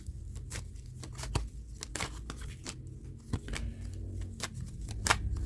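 Oracle cards shuffled by hand in a quiet room, a steady run of soft riffling snaps and slaps with a few sharper card clacks, close and alone without talk.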